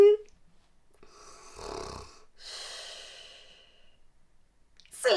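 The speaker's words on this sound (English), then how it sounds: "I'm yawning because I'm tired." Tired adult yawns aloud at night, a long drawn-out breathy yawn followed by a second airy exhale, close and quiet, in a toddler learning setting.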